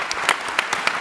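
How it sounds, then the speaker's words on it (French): Applause from a studio audience at a French public forum on solutions, steady clapping with a few louder peaks across a short burst, no voices. "On peut vous applaudir, évidemment, pour ces solutions."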